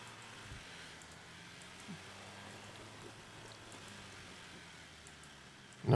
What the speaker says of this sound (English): still hear that water sound